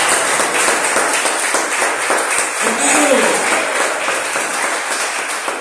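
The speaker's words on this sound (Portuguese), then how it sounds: "Aplauda Jesus e dê glória a Deus" A church congregation claps together during a sermon, dense and continuous applause that holds steady throughout, mixed with voices in the room.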